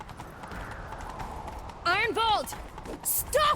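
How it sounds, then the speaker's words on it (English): In The Witcher 3: Wild Hunt, a horse gallops with a quick, steady hoof rhythm under game ambience, broken by a short high neigh-like cry and voices in the second half. "Grab a horse, we'll chase him down."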